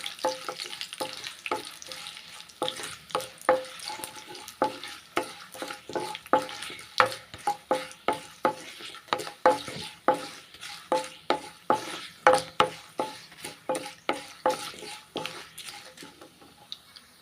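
Buttermilk chillies fry in hot oil in a pan for mor kali, a sizzling base cut by quick, steady scraping strokes of a spoon, close and fairly loud, with no talking.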